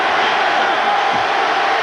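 West Virginia fans at the 2007 Gator Bowl football game against Georgia Tech, a dense, loud crowd roar holding steady throughout the short stretch.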